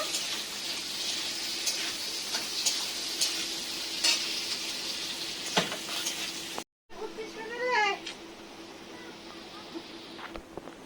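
Steady sizzling of onion and potato frying in a pan, with occasional stirring scrapes and clinks, close up and continuous.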